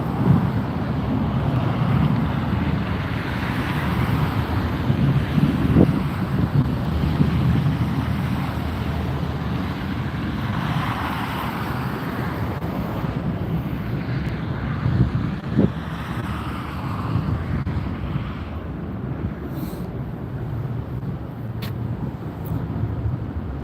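A departing airliner at Las Vegas airport gives a broad, steady roar that slowly fades as it climbs away, with wind buffeting the microphone.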